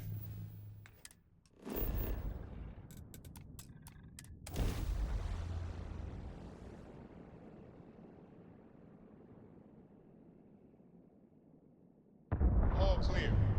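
Spaceship retro rockets fire in Starfield as two loud, broadband bursts, each fading into a long, low-level decaying rumble, with a sharp, loud roaring surge cutting in near the end.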